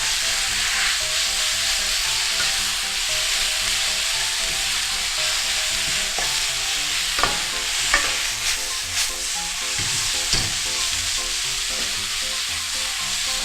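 Yakisoba noodles stir-fried with soy and seasoning sauce and sugar in a hot pan: a constant loud sizzle with occasional sharper scraping strokes of the spatula, close and unbroken by voices.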